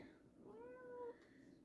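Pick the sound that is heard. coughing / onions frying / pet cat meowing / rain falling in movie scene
pet cat meowing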